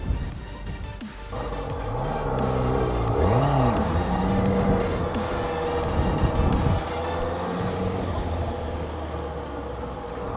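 Honda motorcycle on a rider training course, engine on throttle climbing a ramp then easing off, a steady mid-level engine drone with rising and falling pitch, no talk.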